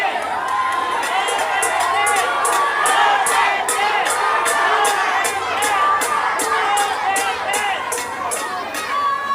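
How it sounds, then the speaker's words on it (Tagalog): A large crowd at a political rally in Manila chants and shouts a candidate's name in a loud, sustained, rhythmic roar with cheering, no single voice standing out. "Ang sigaw ng mga tao ay Duterte."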